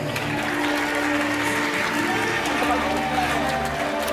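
Studio audience applauding Delphine on a French TV game show, a continuous dense wash of clapping that holds at an even level throughout, with possible voices mixed in.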